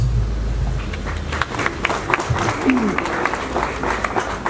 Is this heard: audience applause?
yes